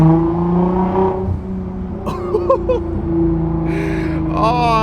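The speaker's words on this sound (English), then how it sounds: "oh, I just love that sound of blow-off valve." Car engine revving with a turbo blow-off valve, likely a Nissan GT-R R35 or 370Z NISMO, rising and falling engine tones with sharp hissing bursts as the throttle lifts, loud and close.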